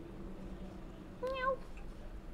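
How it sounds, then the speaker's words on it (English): A cat in the video game Cyberpunk 2077 gives a single short meow, clear but fairly quiet, over a low background hum. "Oh, hello! There's a kitty!"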